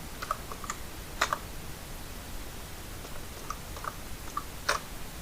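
A computer keyboard is typed on sparsely while Bangla text is entered into a CV in Microsoft Word. Scattered crisp key clicks come in small bursts, close and fairly quiet, with no speech.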